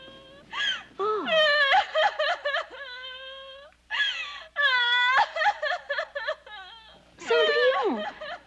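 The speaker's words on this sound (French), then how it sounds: "Je pleure." Cinderella wails and sobs in long, high, quavering bursts, three loud crying spells separated by brief pauses, up close.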